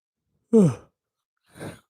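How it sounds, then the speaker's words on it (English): A person gives one drawn-out voiced yawn that falls in pitch, then a softer, breathy exhale a second later, close to the microphone in an otherwise quiet room. "Sorry about my yawn."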